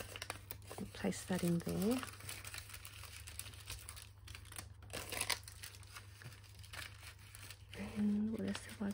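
Paper being folded in half while making a shabby-style mini journal, producing close crinkling and rustling bursts alongside a person talking.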